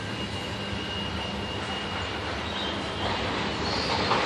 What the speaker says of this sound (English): Now we're going forward with the noisy train.